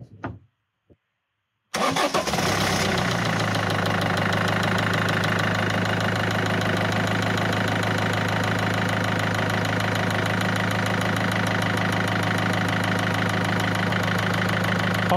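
A diesel car engine, just serviced with fresh oil, cranks briefly and catches, then settles into a steady, loud idle with a constant clattering diesel rumble that runs alone for the rest of the stretch after a few faint knocks at the start.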